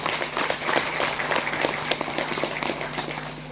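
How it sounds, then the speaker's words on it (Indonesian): Congregation at a church gathering clapping together, a moderately loud, uneven patter of many hands sustained through the short stretch with faint room hum beneath. "Tepuk tangan buat Tuhan Yesus."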